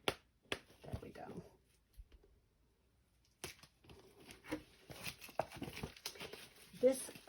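Crinkly plastic packaging around a stamp set crackles and rustles in scattered bursts as it is pried open by hand, with a person talking in between.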